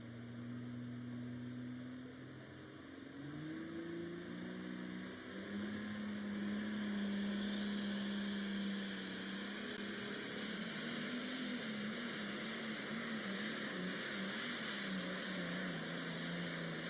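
Pulling tractor making its run at the Arcola tractor pull, a sustained loud engine drone that climbs in pitch as it builds, with a rising whine over it, heard from a distance.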